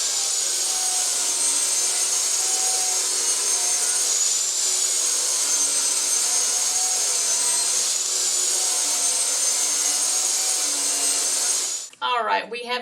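Table saw ripping pallet wood boards to a 5-inch width for a jewelry box: a loud, steady high-pitched whine of blade in wood holding for about twelve seconds, then cutting off abruptly as the saw spins down.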